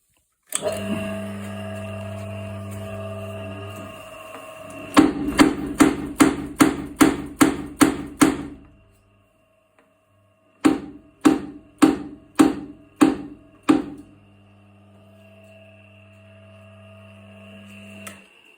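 A heavy mechanical wheel-driven forging power hammer pounds in a fast steady rhythm, two bursts of rapid loud blows separated by a pause, with a motor humming between them.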